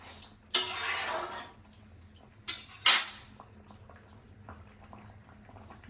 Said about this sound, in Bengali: এখন সর্ষে বাটা দিয়ে দেবো।